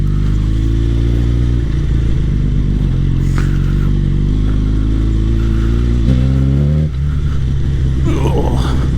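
A Hurricane motorcycle rumbles steadily up close during an off-road ride at low speed, its engine note shifting pitch as the throttle changes, with clattering from the terrain and wind buffeting throughout.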